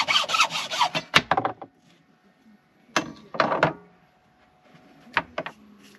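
Rough rasping cuts through a boat hull for a through-hull fitting, several bursts of harsh scraping strokes separated by quiet gaps, close and loud.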